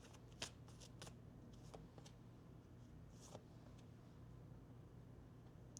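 Oracle cards being shuffled by hand, a soft papery riffle with scattered crisp flicks and taps, quiet and close, no talking.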